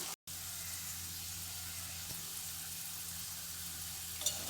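Herbal oil simmering in a pan, a soft steady sizzle and bubbling hiss that continues quietly throughout, with a brief click near the start.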